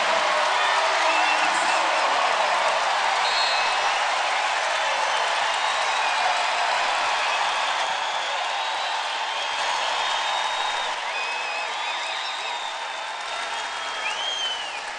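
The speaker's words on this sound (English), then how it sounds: "this is what Megan Jebbia feared, the crowd getting loud" Home basketball arena crowd at an Iowa women's NCAA tournament game, a loud continuous roar of cheering and applause that swells early and holds, then eases slightly, with whistles cutting through.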